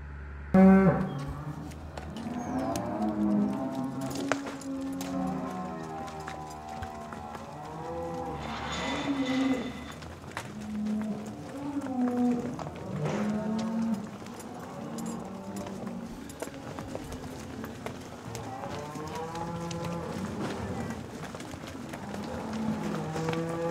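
Dairy cows moo repeatedly in long, drawn-out calls at varying distances, with hoof clatter and farmyard movement throughout and occasional faint voices beneath.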